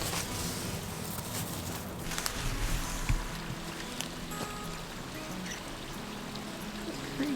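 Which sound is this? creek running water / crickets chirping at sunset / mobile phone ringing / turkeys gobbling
creek running water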